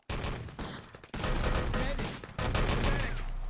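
Rifle gunfire in the video game Enemy Territory during a competitive match, with dense rapid shots and overlapping fire, loud and continuous.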